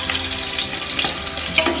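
Oil sizzles and crackles steadily in a pan as onions fry for a large batch of mutton biryani, a dense continuous frying hiss with light stirring scrapes and no talk.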